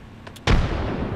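Grenade explosion in a video game while playing as Octane, a single sharp blast after a couple of faint clicks, followed by a rumbling tail.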